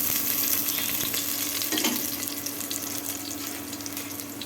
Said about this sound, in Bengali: তাওয়াটা গরম হয়ে গেছে, এখন আমি ভাজির জন্য তেল দিয়ে দিচ্ছি। এখন দিয়ে দিচ্ছি পেঁয়াজ